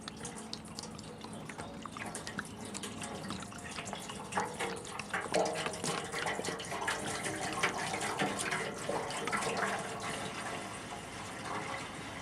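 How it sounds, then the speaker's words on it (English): Plain water pours steadily from a jug into the fuel tank of a long-unused generator, a continuous trickling, splashing flow close by with no talking. "Just put plain old water in it."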